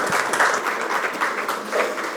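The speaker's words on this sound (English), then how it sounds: "Please give a big round of applause." An audience at a game-industry startup event gives speakers a short burst of sustained, fairly loud applause, with a thick wash of many hands clapping at once.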